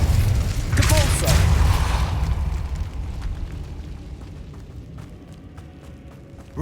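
A Depulso force spell cast in a Harry Potter video game, a loud rumbling burst that swells over the first two seconds and then slowly trails off into a dwindling roar.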